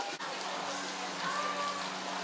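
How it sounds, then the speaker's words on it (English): Heavy rain thumps steadily on a hard plastic roof, a dense continuous patter that stays loud and even throughout with no pauses. "the rain was like thumping down on it"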